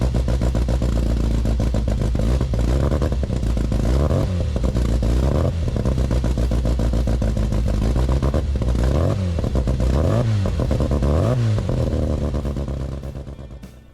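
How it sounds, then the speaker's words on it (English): A classic Mini engine runs steadily in a loud, continuous drone with a gritty clattering edge and several rising-and-falling revs, close by, before fading at the end. "It sounded really good when Paul started it up"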